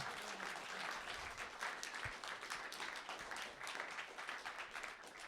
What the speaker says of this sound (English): So just one more time, just a round of applause for Bulligan.